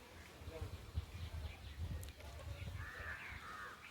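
Two crows perched at a large nest high in a teak tree give a few scattered caws, faint and somewhat distant, heard under someone talking.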